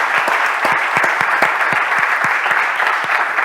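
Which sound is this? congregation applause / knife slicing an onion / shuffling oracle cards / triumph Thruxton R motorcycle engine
congregation applause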